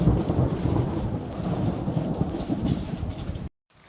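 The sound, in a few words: light rain drizzle in Uttarakhand mountain village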